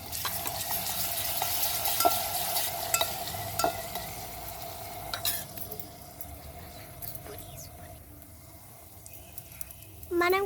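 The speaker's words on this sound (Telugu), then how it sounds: "కలుపుకుంటున్నా." Chili paste with ginger paste frying in a pan for brinjal curry, stirred with soft scraping and low sizzling, broken by occasional clinks of the spoon while a person talks over it.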